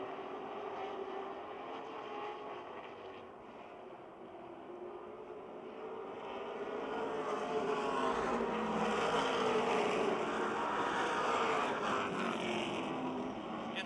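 Stock cars racing at Motordrome Speedway, a blended roar of engines at a distance that swells and rises in pitch midway as the pack draws nearer, then holds as a sustained drone.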